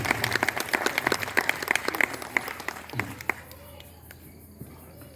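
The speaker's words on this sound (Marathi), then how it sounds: "आपणही जरा टाळ्या वाजवा प्रफुल्लजींसाठी" Audience applause at an evening music concert, a dense burst of many hands clapping that fades out after a few seconds.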